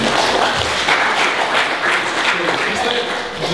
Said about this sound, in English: Clap, put the hands together for the winner for tonight.